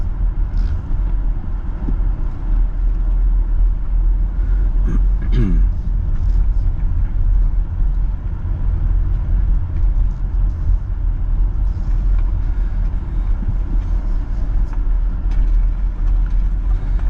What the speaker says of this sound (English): I'll just give way to this car a little bit.